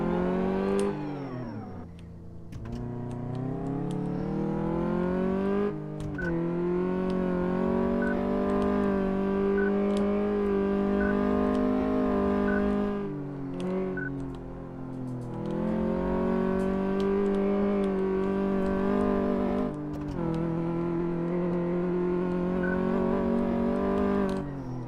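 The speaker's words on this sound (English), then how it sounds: "And that was the test drive. Simple as that, just drive around the circuit and you will get there." Simulated car engine from a Car Mechanic Simulator test drive around a circuit, revving steadily and loud throughout, with brief dips as gears shift or the car slows, then climbing again; no talking.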